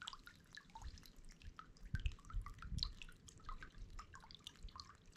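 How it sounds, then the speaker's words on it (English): Spring water runs and drips into an abandoned stone farm building in a wild Scottish glen, a steady close trickle with a few louder splashes and low rumble underneath, no talking. "places like this will be fed from a spring. And it's just flowing so perfectly"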